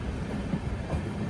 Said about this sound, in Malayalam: ട്രെയിൻ ഇത് ആലപ്പുഴ റെയിൽവേ സ്റ്റേഷനിലേക്ക് എത്തുകയാണ്.